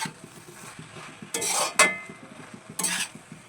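A spoon stirs a cauliflower curry with garam masala and a little sugar in a cooking pot: soft scraping and clinks with two louder metallic scrapes, over a faint steady sizzle, close and without talk.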